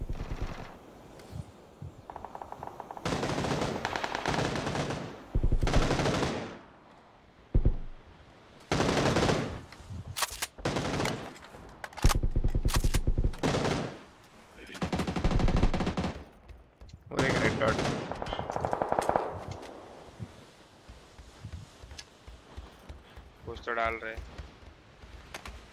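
Shotgun and other gunfire in a video game, heavy bursts of shots coming in clusters and rapid volleys, loud and close, with players talking throughout.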